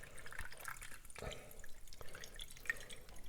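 Cold brew coffee drips through a paper filter in a V60, sparse irregular drops and small trickles, faint and close against quiet background noise.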